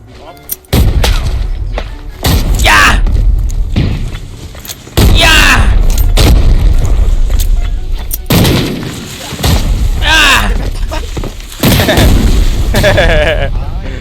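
Repeated loud blasts and gunfire bursts in Arena Breakout, a grenade among them, several sharp heavy booms at irregular intervals with ringing tails, under shouting players.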